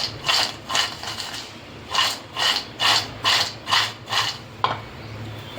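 Fried maida cashews are tossed with a masala coating, giving a series of rhythmic dry scraping rasps, about nine close strokes in a steady back-and-forth pattern with no talking.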